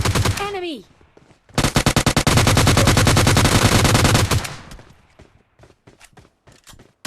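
Gunfire in the mobile battle royale game PUBG Mobile Lite: a brief sweeping effect, then a loud sustained burst of rapid automatic shots followed by scattered single shots and footstep-like taps.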